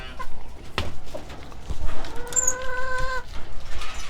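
Chickens cluck and squawk nearby in short bursts, with one drawn-out call and scattered rustling between them.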